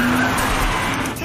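A car driven fast roars loudly with a dense engine and road rumble as its tires skid and squeal, all heard close throughout the short stretch.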